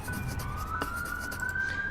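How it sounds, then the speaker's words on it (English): An ambulance siren passes by outside, its steady wailing tone drifting from a distance across the whole stretch, fairly faint behind a background hum. "There's an ambulance gone past."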